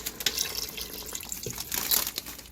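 Tap water runs steadily into a cooking pot for spaghetti, a continuous close splashing stream lasting the whole stretch with no voices.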